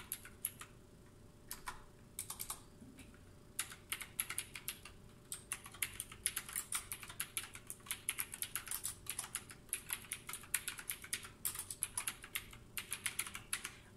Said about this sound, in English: It says a retro style versatile mechanical keyboard. And it even makes the old style sound.